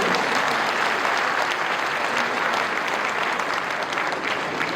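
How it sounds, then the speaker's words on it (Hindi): Sustained applause from an audience at a civic gathering in Lucknow, dense and steady clapping filling the whole stretch at close, even loudness with a faint crowd murmur and no speech. "यदि सही हो तो ताली बजा दीजिएगा तो मैं मानूंगा।"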